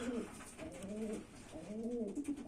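Homing pigeons coo in two soft, rolling phrases, each a low warbling call repeated close by against a quiet background.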